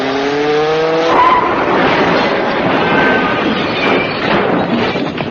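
Car driving off as a radio comedy sound effect: a car engine revs and roars away with tire squeal and skidding, loud and continuous throughout, with no talking.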